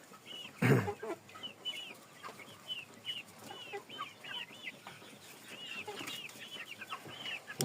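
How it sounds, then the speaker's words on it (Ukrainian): Young roosters and chickens in a coop cluck and chirp in a busy, overlapping chorus, with a loud bump near the start and steady soft background noise. "в нас там залишились, так сказати, майже одні півні. І вони всі ось тут."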